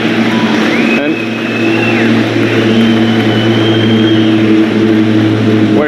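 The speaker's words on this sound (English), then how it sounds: "wait for that plane." An airplane passes overhead at an outdoor Tesla Semi truck presentation, a steady, loud broadband roar that holds through the whole stretch while someone speaks over it.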